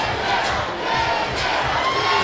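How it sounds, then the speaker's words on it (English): A packed crowd at a Golden Gloves boxing finals roars and cheers, a loud continuous wash of shouting voices with rising swells, close and enveloping. "You can hear how loud this crowd is."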